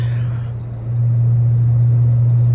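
A Dodge Charger Hellcat widebody with catless mid pipes cruises in fourth gear with the windows up, giving a steady, loud, low engine drone heard from inside the cabin that swells slightly about a second in.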